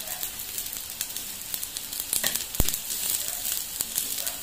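Garlic and onion sautéing in a pan for a vegetable dish with shrimp paste, a bright steady sizzle broken by occasional spatula scrapes and one sharp knock.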